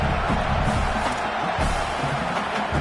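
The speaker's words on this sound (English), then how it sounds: "Man, this crowd really affecting the football game." A home crowd at an American football game roars in a continuous, dense wash of cheering and shouting that fills the whole short stretch.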